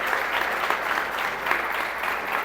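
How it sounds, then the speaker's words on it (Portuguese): A church congregation at a Sunday celebration service claps in a dense, steady burst of applause that fills the room evenly for a couple of seconds. "Você pode aplaudir o Senhor?"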